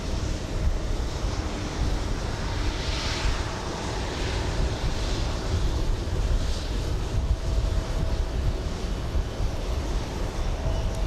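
A small CRJ regional jet taxiing at JFK airport produces a steady, loud, broadband roar that holds without letup from start to finish.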